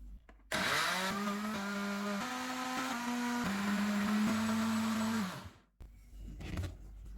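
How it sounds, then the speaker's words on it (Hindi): A countertop blender whirs loudly, chopping watermelon with sugar for juice, its motor pitch shifting as the contents churn for about five seconds before it winds down and stops. "चीनी डालेंगे और ब्लेंड कर लेंगे।"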